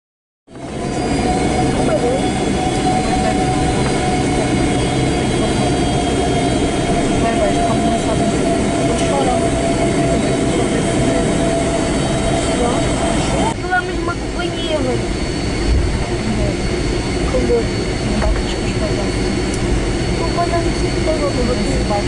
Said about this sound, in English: then to fire up those two Rolls-Royce RB211s towards Germany